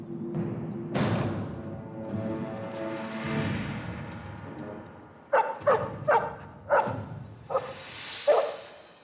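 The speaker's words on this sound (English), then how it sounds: "It's a dog, Mabari." A Mabari war dog from the video game Dragon Age Origins barking, a run of sharp, evenly spaced barks after a quieter stretch of game ambience, fairly close and loud, with no talk.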